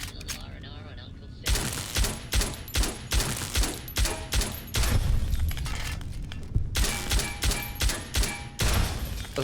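Security turrets in Fallout: New Vegas unleash loud, dense automatic fire in rapid pulsing bursts, with sharp impacts and shattering cracks mixed in, the barrage nearly continuous after a brief quieter opening.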